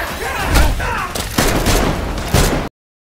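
Gunfire in a Korean action movie, several heavy booming shots and blasts in quick succession, loud and close, with a rumbling tail, cut off abruptly into silence.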